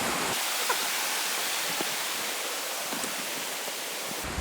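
A waterfall and flowing water at Robert H. Treman State Park in New York's Finger Lakes region, a steady, loud broadband roar of falling and rushing water that holds unbroken throughout.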